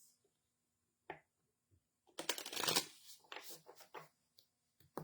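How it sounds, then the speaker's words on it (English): An oracle card deck is shuffled close up in a quick riffle of fluttering clicks, followed by a few soft taps and rustles in an otherwise quiet room. "just going to give another good shuffle to these cards"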